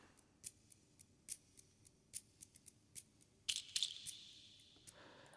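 Recorded shaker tracks playing a steady pattern of quiet, crisp rattling shakes, with a denser, louder burst of rustling hits near the end.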